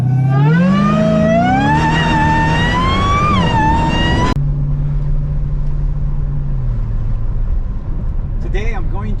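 A supercharged Dodge Challenger Hellcat Redeye Super Stock engine revs up with a loud whining tone that climbs in pitch. After a few seconds it drops abruptly to a lower, steady rumble.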